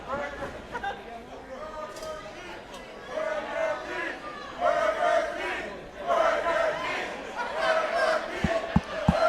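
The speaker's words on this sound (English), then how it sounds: "The crowd here, no fan of Eddie Valentine." A live independent wrestling show crowd roars, chants and jeers in rising waves, loud and close, with voices shouting over the din and a few sharp thuds near the end.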